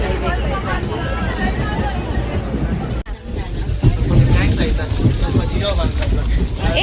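Strong wind and rain at a camp, a steady roaring gust with rushing, wave-like wash that stays loud throughout, briefly dropping out near the middle before surging back.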